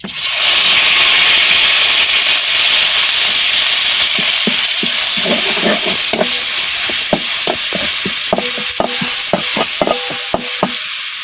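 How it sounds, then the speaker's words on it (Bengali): Half an onion frying in a hot wok for a meat curry gives a loud, close, continuous sizzle. Rhythmic scraping stirs join in and grow more frequent in the second half, with no talking. "এখন দিয়ে দিলাম বাইটের হাফ পেঁয়াজ,"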